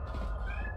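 A cat meows in a game scene, a clear close call lasting under a second over a steady low ambient hum.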